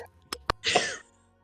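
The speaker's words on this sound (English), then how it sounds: "I'm still getting over my cold, so I got a little bit of a cough." Two short throat clicks lead into a single raspy cough from someone recovering from a cold, close and fairly loud, then quiet.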